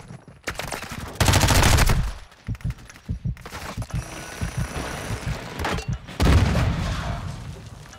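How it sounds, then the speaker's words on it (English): Gunfire and a grenade blast in Call of Duty: Modern Warfare II: loud bursts of rapid shots, a heavy explosion, then scattered shots and mechanical clatter, fairly close and dense with no speech. "What a fucking grenade."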